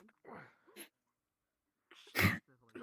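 A single sharp, loud sneeze bursts out close to the microphone, set between brief snatches of a voice and a short silent pause.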